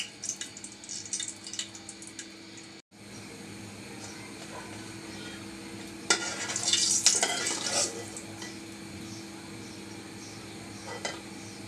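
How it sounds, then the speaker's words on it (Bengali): Three whole dried chillies fry in a little oil in a pan, a soft, steady sizzle with light clinks of a utensil and a louder burst of spattering partway through. "তিনটা গোটা শুকনা মরিচ দিয়ে দিচ্ছি একটু তেলে ভেজে নিব"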